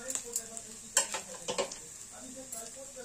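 Spices for tempering sizzle softly in hot oil in a pan. Faint frying fizz runs underneath a few light scrapes and clinks from stirring.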